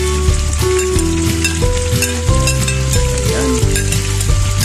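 Onion, ginger and garlic sautéing in hot oil in a pan, a steady close sizzle with repeated scraping stir strokes, nearly uninterrupted for a few seconds.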